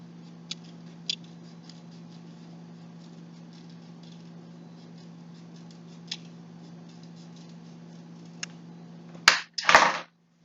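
Scissors cutting circles from paper for a Father's Day craft, a few soft, sparse snips and ticks over a low steady hum, ending with two louder close crisp snips.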